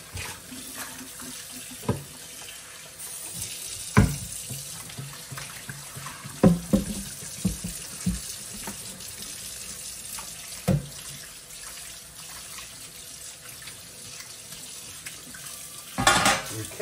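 Water runs steadily from a kitchen tap while a few dishes and cast iron pans are washed, with occasional clinks and knocks of dishware breaking through the continuous flow.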